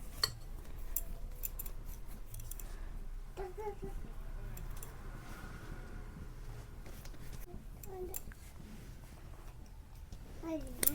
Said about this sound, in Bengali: আমি এবার লেচিগুলো কেটে নেব